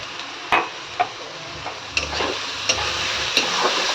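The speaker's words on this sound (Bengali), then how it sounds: "এবার ভালো করে কষিয়ে নেবো" Ground turmeric, chilli and cumin powder are stir-fried for a cabbage dish, giving a steady close sizzle with a few sharp clicks of a spatula scraping the pan.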